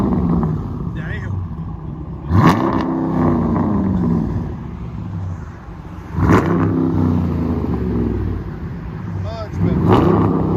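A 2018 Dodge Durango R/T with a 5.7L HEMI V8 and Flowmaster Outlaw true dual exhaust, rear delete and 5-inch tips, revs three times in sharp loud bursts between a burbling idle, heard up close from outside.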